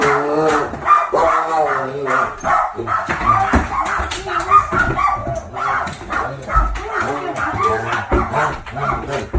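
A puppy barks and yips in quick repeated bursts, mixed with whimpers, loud and close throughout with no talk.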